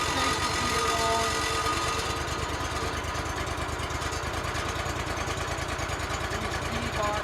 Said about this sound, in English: Alright, let's take a slab off this thing.